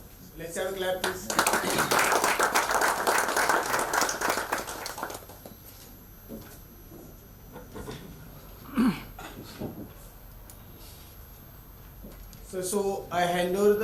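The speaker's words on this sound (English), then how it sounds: "Let's have a clap, please." An audience at a professional tax seminar claps in a dense burst for a few seconds, then fades. Scattered taps, shuffles and brief voices follow, and talking resumes near the end.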